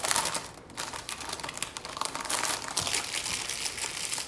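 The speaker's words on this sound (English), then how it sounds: "Always love the sound of new cellophane" Cellophane wrapping on a Bleu de Chanel perfume box crinkles and crackles up close in a continuous busy stream of sharp rustles, with one brief pause. No one talks.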